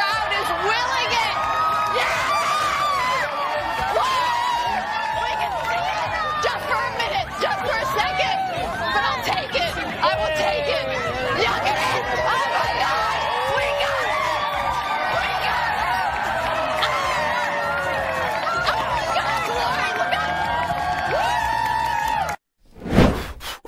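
A large crowd outdoors during a solar eclipse, a dense sustained roar of cheering, shouting and babble that swells throughout, then cuts off abruptly near the end.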